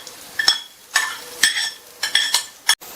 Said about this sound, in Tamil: தாளிப்பு சேர்த்துட்டு நல்லா ஒரு தடவை மிக்ஸ் பண்ணி விட்டுறலாம்.